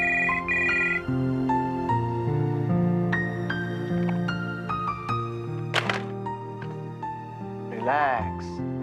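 A phone rings unanswered, playing a melodic ringtone of stepped electronic tones that repeats for several seconds, loud and close, with brief swooping electronic sounds near the end.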